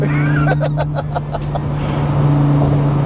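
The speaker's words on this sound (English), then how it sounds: "You hear the turbos, right?" A 2009 Lamborghini Gallardo LP560-4 fitted with twin turbos, its engine revving loud and close in a steady drone, with rapid pulsing bursts from the engine early on.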